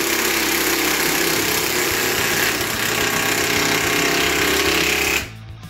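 Two 18V battery impact wrenches from Bosch and Makita, set to roughly 1000 Nm, run together in a loud, continuous rattling hammer for about five seconds, then stop abruptly.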